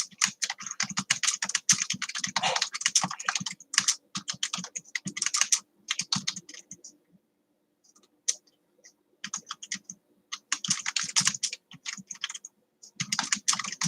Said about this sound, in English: I'm going to just type a little something in the chat.